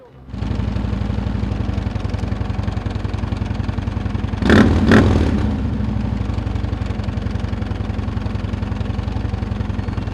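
A police motorcycle idles steadily in a New York street, a low, even engine rumble with a brief louder surge partway through before it settles back to idle.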